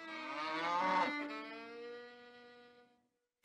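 A cow moos once in a long, loud, drawn-out low call that fades over about three seconds, heard alone before a sudden short burst at the very end.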